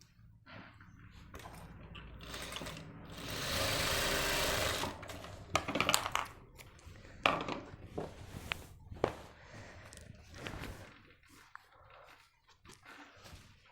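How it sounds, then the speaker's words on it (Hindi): A sewing machine stitches the base of a Nehru jacket panel in a tailoring shop, with one sustained whirring run followed by short stop-start bursts of stitching and scattered handling noises. "इसकी जड़ में हमें सिलाई मार देनी है।"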